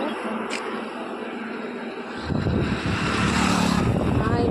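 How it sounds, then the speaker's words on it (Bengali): A motorbike approaches on a road outdoors, its engine rumble rising and growing louder over the last couple of seconds amid wind noise. "বাইক আসছে বাইক আসছে"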